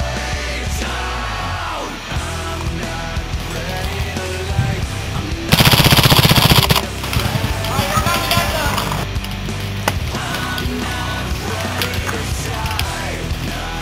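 Paintball markers fire in rapid bursts during an outdoor woodsball game, with a dense, close volley in the middle, over constant shouting and talk among players.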